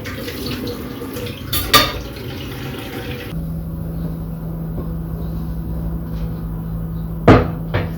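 Running tap water splashes while washing and rinsing at a sink, with a couple of louder knocks and clatters, then the flow settles into a steady hum.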